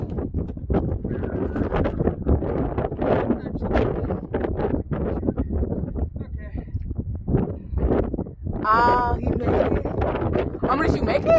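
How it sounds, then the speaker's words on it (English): Wind gusting outdoors among the rocks of Joshua Tree National Park, buffeting the microphone with a rough, constant roar, while voices are heard nearby. "Oh, the wind is blowing bad."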